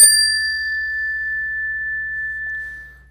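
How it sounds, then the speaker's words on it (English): A unison chime, two bars tuned to the same note, is struck once and rings out with a clear, sustained metallic tone that fades slowly over about three seconds, loud and alone. "This little chime, it's technically a unison chime, meaning it's the same note on two different bars."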